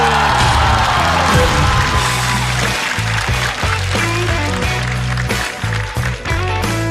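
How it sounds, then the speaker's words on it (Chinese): A stand-up comedy audience applauds and cheers loudly, a dense wash of clapping with whoops, under booming music with a heavy rhythmic beat. "掌声送给鸡翅"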